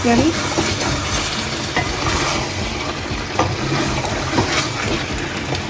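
Pork roast with black pepper fries in a pan, giving a loud, continuous sizzle broken by scraping and clinking as it is stirred.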